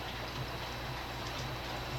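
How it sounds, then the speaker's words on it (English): Rainwater dripping steadily onto an upside-down plastic bucket outside by a garage during wet, freezing weather, a soft continuous patter with faint irregular taps, no voices. "I have a plastic bucket upside down out by the garage and the water's dripping on it"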